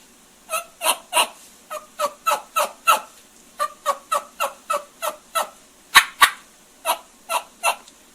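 A latex turkey call imitating the plain yelps of a hen, about twenty crisp, evenly paced yelps in a clear series, close and alone.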